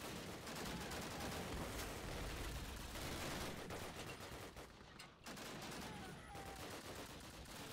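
Dense, continuous gunfire from Call of Duty: United Offensive, rapid overlapping shots and bursts in a fusillade with a short lull near the end before firing resumes, loud and unbroken.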